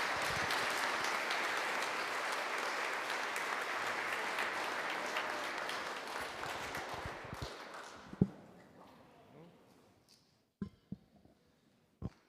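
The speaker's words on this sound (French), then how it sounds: "Est-ce qu'on l'applaudit?" A church congregation applauds at a first communion celebration, steady sustained clapping for about eight seconds that then fades out, leaving a few isolated knocks and taps in a quiet room.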